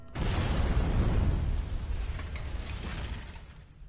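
A large explosion from a suicide attack in a server room in NieR Automata: a loud, deep boom that swells quickly, holds heavy rumbling for about a second, then slowly fades away.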